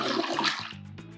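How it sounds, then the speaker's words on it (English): A toilet in a 1970s beach house flushes with a loud rushing, swirling gush of water that tapers into a gurgling, bubbling refill, with no voices over it. "The water, when you flush, actually comes out of here and shoots around, kind of makes a little cyclone action."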